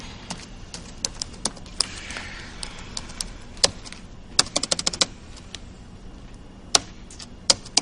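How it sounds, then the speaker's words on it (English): Close, crisp clicks of computer keyboard keys as an email address is typed, coming in irregular bursts and single taps over a quiet room background, with no voices. "I know it by heart. Let me type it in."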